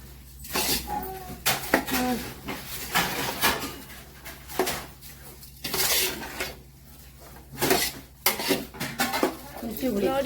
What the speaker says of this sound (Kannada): ನೋಡಿ ಫ್ರೆಂಡ್ಸ್, ಅಕ್ಕಿ ಹಾಕೊಂಡಿದ್ದನ್ನು ಮಿಕ್ಸ್ ಮಾಡ್ತಾ ಇದ್ದಾರೆ.